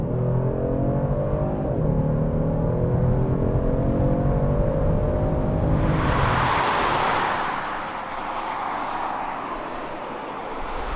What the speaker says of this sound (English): Engine is plenty powerful,